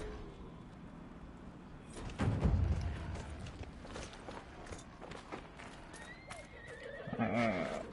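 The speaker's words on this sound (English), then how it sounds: "This is the horse." A horse whinnies and clip-clopping hooves thud along in the video game Dragon Age: Inquisition, with a loud neigh near the end and scattered game-like sound effects.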